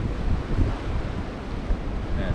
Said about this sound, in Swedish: det är ljumna vindar, för ni hör och ser ju säkert att det blåser.